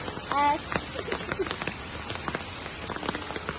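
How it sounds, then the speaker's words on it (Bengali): Rain pattering down on a stormy day of mango picking, a close, continuous spray of raindrop taps with a brief tonal sound near the start. "বৃষ্টি এসে গেছে"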